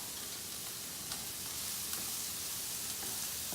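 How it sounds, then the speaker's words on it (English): Onions sautéing in a pan for healthy stuffed peppers, a steady, even sizzle of frying with faint crackles throughout and nothing else over it. "You're gonna cook your onions until they're about translucent, just as they are now."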